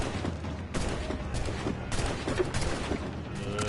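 Ship cannons fire in Assassin's Creed Black Flag video game, with several heavy booming blasts and rumbling bursts in close succession over a dense, noisy battle background.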